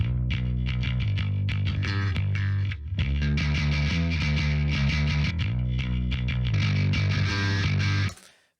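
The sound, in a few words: soloed distorted bass guitar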